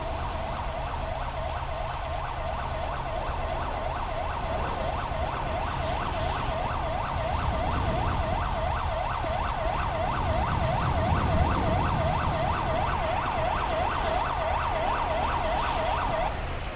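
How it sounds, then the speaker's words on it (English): A video game ambulance siren in an LSPDFR night city patrol in the rain cycles rapidly and steadily for the whole stretch, loud over a low traffic rumble, with no talking. "Ambulance."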